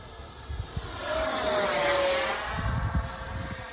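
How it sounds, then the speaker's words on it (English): A Freewing F-86 Sabre 80mm EDF RC jet with an upgraded motor setup flies past, its loud turbine-like whine and rushing air swelling and then fading over a few seconds, with a pitch shift as it passes. "one thing about this plane, even though it's an older plane, it has awesome sound with that new motor set up"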